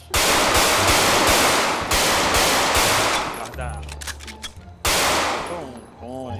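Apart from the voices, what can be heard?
gunshots in GTA 5 roleplay shooting training, from a video game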